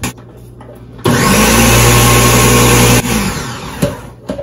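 A kitchen blender whirring through ice and protein powder for an ice cream shake, starting abruptly, running loud and steady for about two seconds, then cutting off, followed by small clatters.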